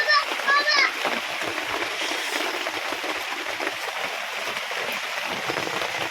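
Steady rain hisses and splashes throughout, while a voice is heard briefly at the start.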